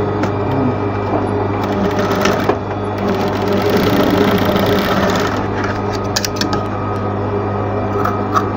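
A sewing machine stitches the corner of an apron in quick bursts, a close, loud mechanical whirring and rattle that pauses briefly and resumes.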